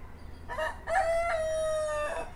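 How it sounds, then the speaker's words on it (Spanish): Roosters crow in the early morning around a home garden: one drawn-out cock-a-doodle-doo rings out clearly at mid distance, with quiet outdoor background and no talking. "También espero que escuchen el canto de los gallos."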